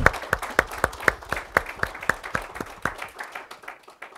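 A small audience claps in a steady, evenly spaced rhythm of distinct claps, then the clapping thins and stops after about three seconds.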